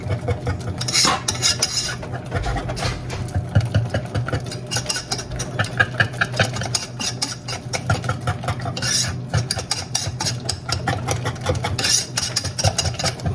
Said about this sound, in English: I'm just gonna whisk this till we can get us a smooth batter.